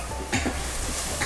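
Powdered chili, turmeric, cumin and garam masala roast in a pan for Hyderabadi chicken korma, making a loud, steady sizzle broken by short scraping stirs, with no talking.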